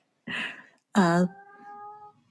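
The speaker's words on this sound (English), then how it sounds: "I think Kitty O'Hare is going to sing with us" Two cat meows, the second louder and rising into a long wavering cry, with no talking.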